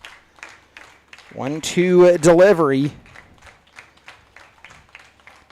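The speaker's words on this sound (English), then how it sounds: "The home crowd, they get to clapping when it is down to the final strike of the game." A home crowd at a 2025 Dodge City A's baseball game claps steadily in rhythm at the final strike, a faint, even patter beneath a play-by-play announcer talking.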